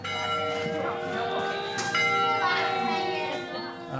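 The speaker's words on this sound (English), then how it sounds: "The bell that's in the tower here was a backup bell that was used, and we've got it here and we can actually ring it at times." Backup bell in a historic hose tower, rung in a ringing peal with long sustained tones and a fresh strike midway, with faint voices in the background.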